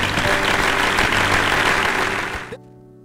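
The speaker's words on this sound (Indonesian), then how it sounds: "tepuk tangan untuk Anissa." A studio audience claps for Anissa on a stage talent show. Dense, loud applause runs for about two and a half seconds and then cuts off abruptly, leaving a low hum.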